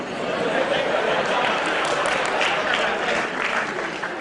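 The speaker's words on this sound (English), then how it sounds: "why are you all clapping?" An audience at a medical lecture on surgery claps in a sustained, dense wash of applause, steady and fairly loud from start to finish.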